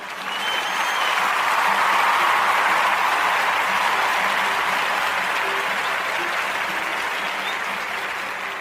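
A crowd cheers and applauds loudly and continuously, a dense sustained roar of clapping and voices that swells early and slowly tapers.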